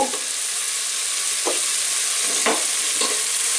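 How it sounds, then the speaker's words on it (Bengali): Spices fry in oil in a pan with a steady broadband sizzle, broken by a few soft stirring scrapes, close and continuous with no voices. "এখন এটাকে অল্প একটু ভুনে নিব"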